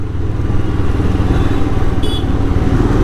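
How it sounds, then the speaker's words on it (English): A motorcycle being ridden out of a city on a Saturday, its engine a steady, loud low drone with continuous road and wind rumble throughout and no talking. "I'm riding this motorcycle after nearly a month."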